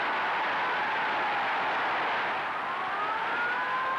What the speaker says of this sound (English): Siren sounding, Fisher takes a tap kick as Great Britain wins 21-17